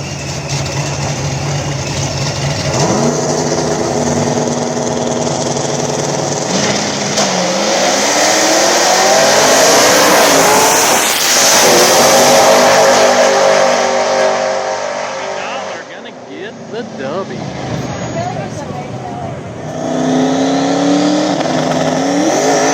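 Loud drag race engines, including a supercharged Chevrolet S10 small-tire no-prep racer, roaring and revving with rising pitch as the cars launch and pull hard, a brief dip around sixteen seconds, then another surge, with an announcer talking over the roar.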